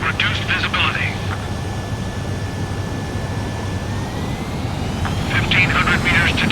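Jet aircraft in Ace Combat 7 flying a nighttime aerial refueling approach, a steady engine roar throughout under intermittent radio-style voices and a brief electronic tone.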